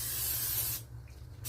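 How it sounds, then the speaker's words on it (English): Olive oil non-stick cooking spray hisses steadily over pork tenders in a continuous close burst of about three quarters of a second, then cuts off, leaving only faint room noise. "So I have here just some olive oil non-stick cooking spray."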